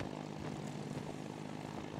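A propeller airplane flies steadily in the video game It Takes Two, with a constant, fairly soft droning engine hum and no talking.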